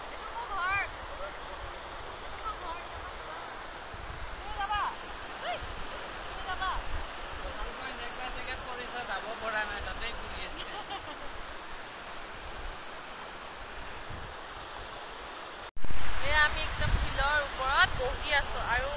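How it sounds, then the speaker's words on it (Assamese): A river rushes continuously in the background while people talk over it. The steady roar swells louder in the last few seconds. "আগপিনে পুৰা নদীৰ চাউণ্ডটো কাৰো মাত শুনা নাপায়"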